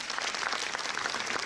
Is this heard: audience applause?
yes